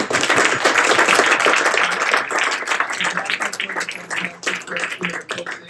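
Audience at a book event in a Palo Alto bookstore clapping for the hosts, dense close applause that gradually thins and fades over several seconds.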